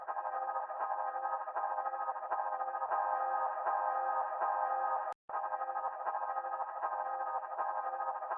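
DMG Audio Pitchfunk processing a steady, continuous tone, with LFOs modulating splice and pitch to add small jittery random variations; the sound runs loud and even with a brief dropout near the middle.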